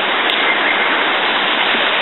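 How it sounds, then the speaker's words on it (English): A creek flows beneath a small wooden footbridge on a Glacier National Park trail, giving a steady, close rush of water that stays even and continuous throughout, with no voices. "Coming up on a creek here"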